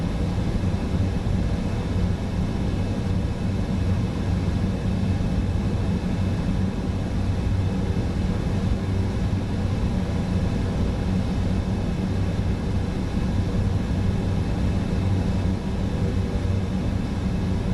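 Steady, even drone of an ATR 72-600 airliner's turboprop engines in flight in Microsoft Flight Simulator, a constant low rumble with no talk over it.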